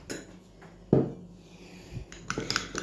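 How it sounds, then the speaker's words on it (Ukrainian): A spoon clinks against a pot while stirring a meat sauce mixture, giving one sharp scrape-and-knock followed by softer metallic taps, close and brief, with no talk. "Ще раз перемішую до однорідності."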